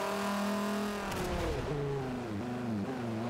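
SRT Viper race car engine in Forza 5 revving hard at high RPM, a loud sustained engine drone with pitch climbing and dipping as gears shift through a turn, no talk over it.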